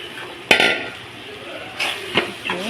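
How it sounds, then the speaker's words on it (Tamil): Fried bitter gourd stirred in a pan for a gravy, with sharp spoon-on-pan clanks and scraping over a low sizzle, close and loud, several distinct knocks. "பொறிச்சு வச்சுருக்கிற பாவக்காய் வந்து இதில் ஆட் பண்ணுவோம்"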